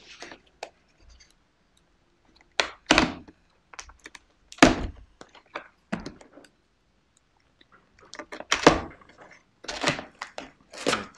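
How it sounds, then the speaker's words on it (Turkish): Plastic wrap is torn and a cardboard box is unboxed, giving scattered crinkles, rips and thumps in irregular bursts with quiet gaps between them. "Ben de ilk defa şimdi sizinle beraber açıyorum kutusunu."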